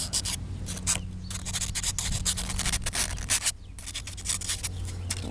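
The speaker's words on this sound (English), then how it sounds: "Give them a little bit, some 400 grit sandpaper. What I do is just take the burr off." Hand sanding with 400 grit sandpaper to take burrs off engine piston rings in a shop, a steady close rubbing and scratching with short pauses between strokes.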